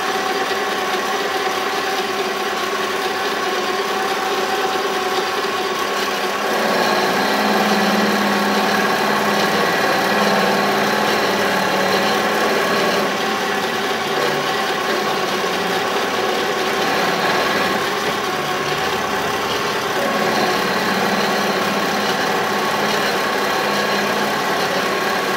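A mini lathe runs steadily while cutting down metal stock for a machinist hammer, a loud, constant motorized hum and whine that holds evenly throughout with no talking.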